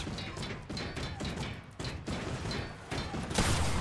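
Pump shotguns firing in a video game: a string of sharp, booming blasts with pump actions between them, loud and close, ending on a heavier blast.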